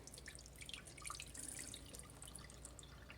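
Water drips and trickles from a container of soaked sprouting seeds as it drains, a scattered, close patter with no voices.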